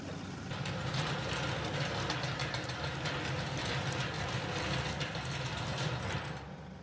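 A fertilizer spreader runs with its PTO-driven agitator spinning, giving a steady mechanical whir and rattle at moderate distance, fairly quiet, before it cuts off at the end.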